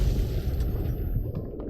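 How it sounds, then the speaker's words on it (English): A big explosion in the video game Fallout 3: a loud, continuous low rumbling boom that rolls on for almost two seconds, with brief crackling bursts over it and no voices. "I like how you actually get knocked down because the explosion is so big"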